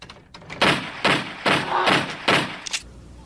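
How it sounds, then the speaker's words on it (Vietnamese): A toy gun fires five loud, evenly spaced bangs in quick succession, each a sharp crack with a brief rattle, fairly close. "Wow, tiếng nổ thiệt là giống súng thiệt ha"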